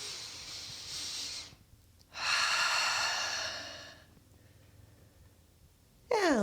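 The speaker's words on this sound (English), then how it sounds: "Take another deep cycle of inhale and exhale" Slow, deep breathing during a yin yoga stretch, a long airy inhale followed by a long exhale with pauses between, close and fairly loud, a fresh breath starting at the end, no talking.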